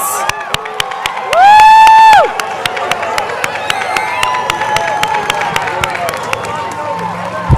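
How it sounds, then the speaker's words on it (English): Outdoor crowd at a high school senior awards night on a field, scattered cheering, whoops and clapping that carry on steadily, broken by a loud whistle-like tone and sharp clicks. "Let's give a final round of applause for all of our award recipients and future amazing adults."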